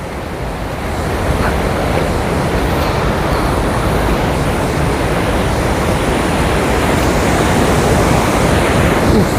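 Heavy torrent rushing through the five open Kallarkutty dam shutters, a dense unbroken roar that swells slightly at first and then stays loud and even, with nothing else standing out.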